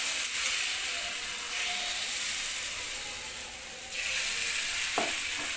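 Guntapongalu batter frying in hot oil makes a loud, steady sizzle throughout, swelling and easing slightly, with a brief clink near the end.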